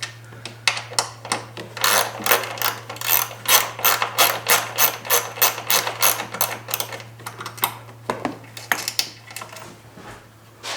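Ratchet wrench unbolting a 10 mm skid plate bolt on a 2022 Lynx snowmobile, with rapid repeated clicking strokes in bursts, close and fairly loud over a steady low hum, no talking.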